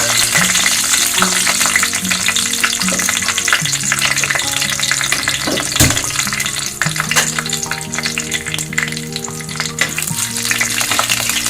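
Whole spices, cinnamon, cloves, bay leaf, star anise and cardamom, frying in hot oil for bagara rice: a loud, continuous sizzle with crackles, stirring scrapes and a sharp clatter midway, over a faint background hum.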